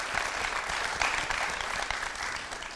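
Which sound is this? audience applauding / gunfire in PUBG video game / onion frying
audience applauding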